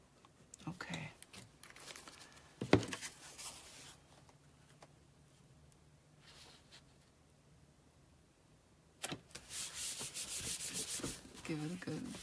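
Paper card being rubbed by hand during card-making, heard as soft, scratchy friction strokes in bursts near the start and again more steadily toward the end, with quiet stretches in between.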